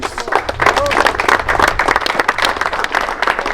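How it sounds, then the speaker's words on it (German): Audience applause at a kart race award ceremony in Wohlen, a dense, steady wash of clapping that runs the whole time, with cheering voices and a speaker's voice mixed in. "Ein riesen Applaus für unsere Influencer-Crew."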